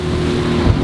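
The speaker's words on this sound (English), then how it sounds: "the boat's running really nicely" A small speedboat's engine runs on choppy sea, a brief, loud and steady droning roar heard close by, mixed with wind rush.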